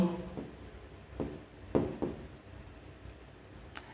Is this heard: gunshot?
no